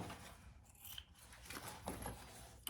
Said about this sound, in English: just cut that excess zipper off